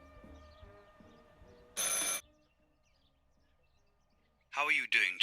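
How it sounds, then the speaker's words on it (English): An old telephone rings in the horror game Martha Is Dead with a loud, brief electric ring burst, a quiet gap, and then two more warbling rings close together. A low game ambience hums underneath. "Phone call आया है आई।"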